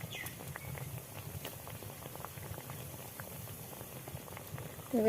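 Flour and sugar sweets fry in hot oil in a wok, giving a steady, close bubbling sizzle with scattered pops that runs throughout and swells briefly at the very end.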